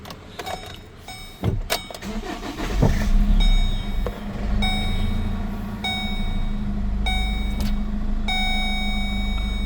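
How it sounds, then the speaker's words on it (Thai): A 2014 Chevrolet with a manual gearbox starts with a short burst of cranking clatter, then settles into a steady, close engine idle with recurring high electronic tones over it. "ชมคลิปสตาร์ทรถนะครับ"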